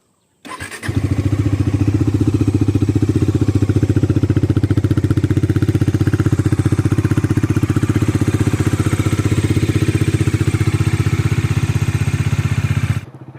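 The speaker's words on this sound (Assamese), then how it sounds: "কল্ড ষ্টাৰ্টৰ চাউণ্ড শুনিব গাইছ আপোনালোকে।" A Bajaj Dominar 400 motorcycle cold-starts, catching after about a second and settling into a loud, steady, throbbing idle that runs close to the microphone for roughly twelve seconds, with no talking.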